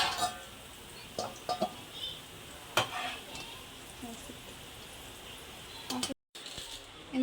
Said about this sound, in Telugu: సో టోటల్గా కొంచెం ఆయిల్ అంతా బయటకు వచ్చిన వరకు దీన్ని ఇలా వేపుతూనే ఉండాలి